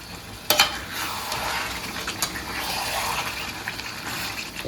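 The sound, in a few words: meat being stirred and fried in masala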